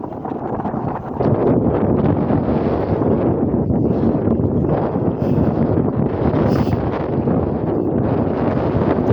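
Strong wind buffets the microphone outdoors on a farm, a continuous loud rumbling roar with gusts that swell and ease throughout, and no voices.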